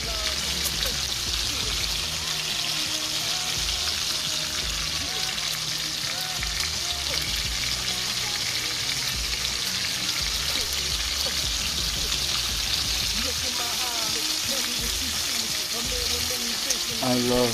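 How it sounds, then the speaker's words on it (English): Steady crackling sizzle of bacon frying in a pan, dense and continuous throughout, close by with no pauses. "I love the sound of bacon."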